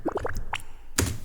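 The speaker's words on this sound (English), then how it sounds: "me recording some water noises with my phone and slapping reverb on it" Small water splashes and drips recorded on a phone and drenched in reverb: a quick run of four bubbly plops, a pause, then a brighter splash, all close and fairly quiet.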